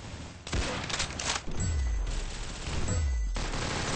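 Bursts of video game gunfire with low booms and rumbling impacts, dense and continuous over a noisy game soundscape, fairly loud and close.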